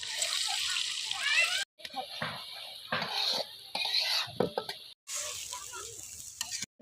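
Duck eggs frying in a pan at an outdoor village picnic, a close hissing sizzle broken into several bursts with clatters of utensils and a voice talking over it.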